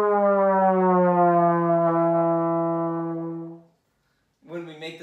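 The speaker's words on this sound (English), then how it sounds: "When we're playing the trombone and we make the slide longer, the sound goes lower." A trombone sustains a loud, rich brass note for several seconds as the slide is lengthened, then fades out; a short burst of speaking voice follows after a brief gap.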